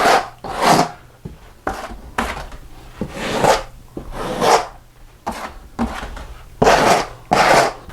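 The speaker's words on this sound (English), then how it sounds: "you just smooth them out. Take off all the excess thin set." A trowel scrapes and smooths excess thinset along Kerdi board joints in repeated rough strokes, each pass a close rasping swipe separated by short pauses.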